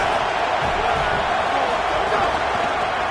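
A stadium crowd at an Iowa football game sends up a steady, dense roar, loud and unbroken throughout.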